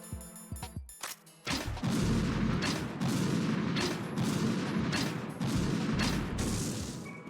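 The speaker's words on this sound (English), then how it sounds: "Yeah, just a few explosions." Rolling explosions from the video game Metal Gear Solid 2: a few sharp mechanical clicks, then a loud, sustained run of booming blasts and crackling bursts that swell and overlap for several seconds.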